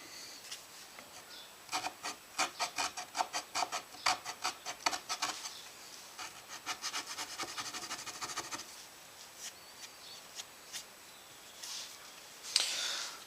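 A file rasps wood to sharpen the corners of a guitar pickup cavity in quick rhythmic strokes, heard close and fairly quiet, with bursts of strokes separated by brief pauses and no talking.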